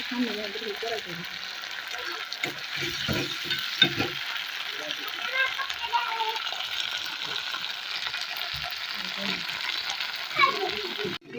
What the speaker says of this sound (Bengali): এগুলো সব দেওয়ার পরে ভালো করে কষাতে হবে